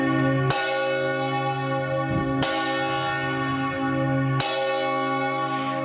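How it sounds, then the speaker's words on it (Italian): Church bells ring loudly in a town square, a sustained, richly overtoned peal with fresh strikes roughly every two seconds, each new stroke layering over the ringing decay of the last. "Abbiamo purtroppo le campane che stanno suonando"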